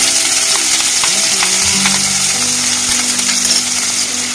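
Chopped onion frying in hot oil in a kadai with dried red chilli and cumin gives a loud, dense, continuous sizzle, close up, with a few light clinks of a spoon and no voices.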